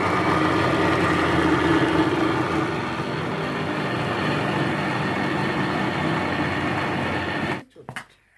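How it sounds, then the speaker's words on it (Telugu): A kitchen mixer grinder running on boiled urad dal, a loud continuous whirring drone that ends abruptly near the end with a few clunks, while someone speaks over it. "వీటిని మిక్సీ పట్టేసేసుకుందాం"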